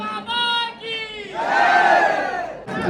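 A crowd at a film artists' meetup in Bilaspur cheers and shouts loudly in welcome, with raised voices swelling in the middle and continuing steadily throughout.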